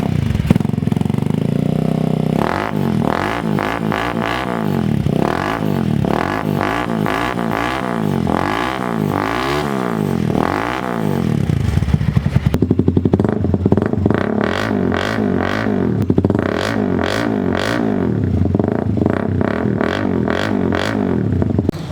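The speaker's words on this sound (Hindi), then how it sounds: "ये आपने देखा कंप्लीट साउंड टेस्ट रिव्यू दोनों बाइक्स का" Honda CBR 150 motorcycle exhaust revving repeatedly in sharp bursts, loud and close, with idling between throttle blips and no talking.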